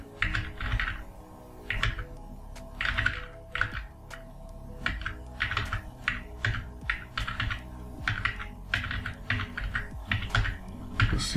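Someone types on a computer keyboard while coding in Python, steady bursts of close clicking keystrokes separated by brief pauses, over a faint low hum.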